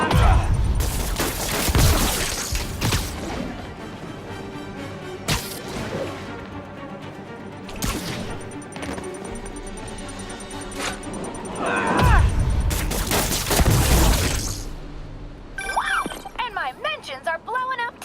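Explosions in the Spider-Man PS4 video game, several loud bursts and crashes scattered through the clip, with game voices talking between them.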